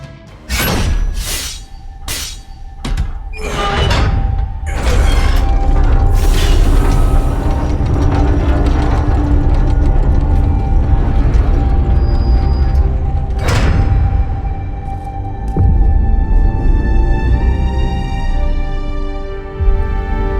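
An old Enigma lock mechanism opens in the Marvel Midnight Suns video game, with heavy clanks, thuds and a shattering burst up front, then a dense grinding, rumbling mechanical roll that booms again midway before settling.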